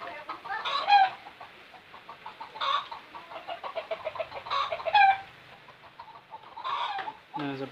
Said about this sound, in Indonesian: Ayamnya berisik ya, teman-teman.